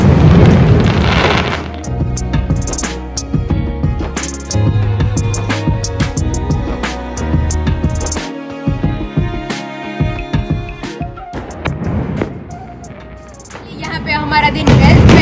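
Firecrackers burst during the Uttarayan kite festival, with repeated booms and sharp cracks scattered over a long stretch, some close and loud, others distant, under a bed of music and people talking.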